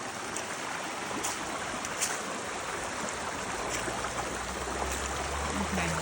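A river flows over rocks in a steady rushing babble, close and continuous, with light splashes and a low rumble building toward the end, no voices.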